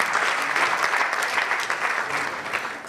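Loud, dense applause from a crowd at a Ghanaian school quiz competition claps continuously throughout, close and steady with no letup.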